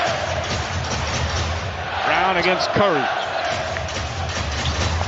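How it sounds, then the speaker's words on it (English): A basketball arena crowd at a playoff game 6 roars steadily and loudly throughout, a dense wash of cheering under an announcer's commentary. "the crowd is absolutely ready once again"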